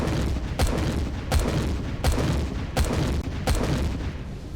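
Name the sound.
video game cannon firing explosive rounds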